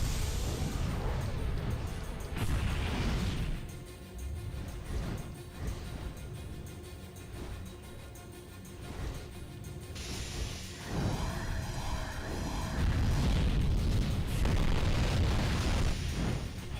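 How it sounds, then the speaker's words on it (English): Dragon fire explosions in Drakengard, heavy roaring blasts and rumbling bursts rising and falling across the stretch, loud and close, with a fiery crackling swell near the end. "Dragon fire!"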